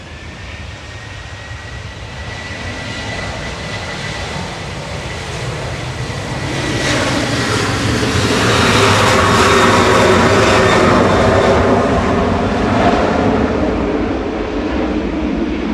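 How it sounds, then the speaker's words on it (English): A Loganair aircraft arriving from Inverness approaches with a jet engine roar that builds from a moderate hum into a loud, broad rushing whine, then holds high and steady as it passes close by. "Next in is Logan Air coming in from Inverness."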